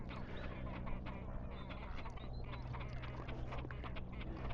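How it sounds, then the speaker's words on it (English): Ducks quack repeatedly around a fishing lake, scattered calls over a steady low outdoor background at moderate distance. "there's a load of ducks just turning up as well"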